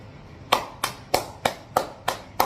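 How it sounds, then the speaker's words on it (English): A single pair of hands claps slowly and evenly, seven crisp, close claps about a third of a second apart over a quiet background. "Round of applause to my friends here."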